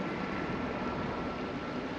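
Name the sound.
helicopter flying over emergency scene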